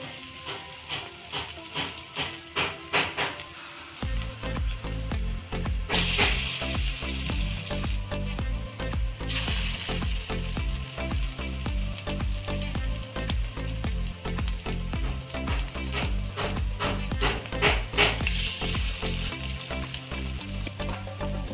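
Drumstick flower fritters frying in hot oil in a wok over low heat, a steady dense sizzle throughout, swelling louder after the batter goes in, close and continuous with no talk.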